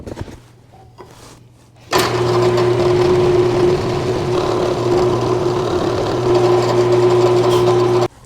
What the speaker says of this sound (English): when we drill this hole, we're not going to want to go too deep